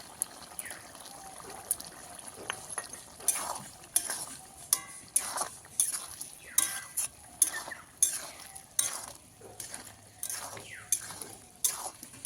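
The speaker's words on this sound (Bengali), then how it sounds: "একটু নাড়িয়ে নেবো আর কিছু ধনে পাতা কুচি দিয়ে দেবো" Spoon stirring cauliflower curry with ghee in a pan, close up and fairly quiet; rhythmic scraping and clinking strokes repeat steadily with a soft sizzle underneath.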